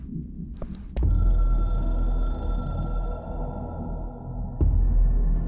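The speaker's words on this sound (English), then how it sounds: "I can hear the hotline ringing in my dreams, constantly ringing." A hotline telephone ringing in the video game Control, a steady electronic tone sustained at close range over a low, throbbing ambient hum, with a heavier pulse near the start and again toward the end.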